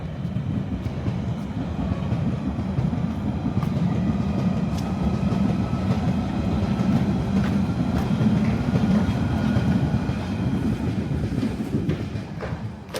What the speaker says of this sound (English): There goes a Central Line train.